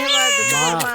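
A baby cries in short, loud, wavering wails, close and alone, in a Tamil television drama scene.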